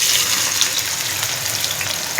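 Onions frying in hot oil with a pinch of salt in a home kitchen, giving a steady, close, continuous sizzle and crackle with no talking.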